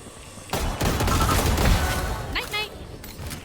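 Gunfire in the Valorant video game: a sudden loud burst of rapid shots that rolls into a sustained barrage with booming impacts, trailing off into scattered sharper sounds toward the end.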